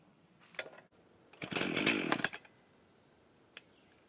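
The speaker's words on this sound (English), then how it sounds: "now we'll see how the Echo chainsaw will do starting cutting" Brief bursts of an Echo gas chainsaw revving, a short rasp then a longer loud surge that drops away as it is pulled and run.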